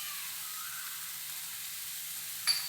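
Green chillies and curry leaves fry in a pan for a masala egg dish, giving a soft steady sizzle with a brief louder crackle near the end.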